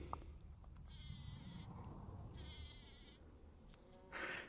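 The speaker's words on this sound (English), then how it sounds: "Oh, I can hear bees." Bees buzz around wild roses in a garden hedge, coming and going in several faint droning passes close by against a quiet outdoor background.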